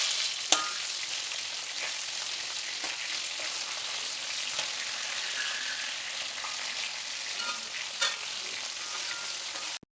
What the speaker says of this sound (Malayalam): ചിക്കൻ നല്ലോണം ഫ്രൈ ആവട്ടെ.